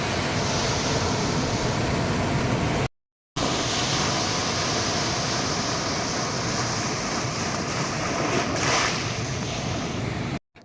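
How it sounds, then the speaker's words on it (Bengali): Sea waves breaking on the shore at Digha beach, a steady broad wash of surf mixed with wind buffeting the microphone, cut by one brief silent gap. "অনেকক্ষণ তোমরা সমুদ্রে দেখলে সমুদ্রের সাউন্ড শুনলে"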